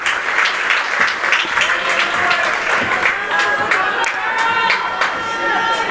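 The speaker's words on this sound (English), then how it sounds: "Delaney Haynes get a nice ovation from the Deering crowd" A high school girls' basketball crowd in a gym gives Delaney Haynes a warm ovation, sustained clapping and scattered cheers, with an announcer talking over it.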